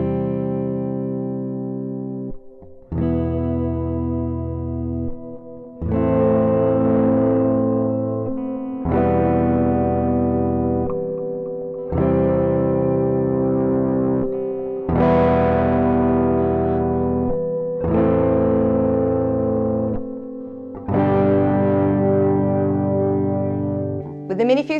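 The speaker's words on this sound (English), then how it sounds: "we will use the included Guitar Rig LE preamp to give our guitar a more realistic amplified feel. Adding delay and reverb will also sound great" Electric guitar recorded through a MiniFuse interface and Guitar Rig LE preamp with delay and reverb, playing a series of long sustained distorted chords, each ringing out with spacious echoing tails before the next is struck.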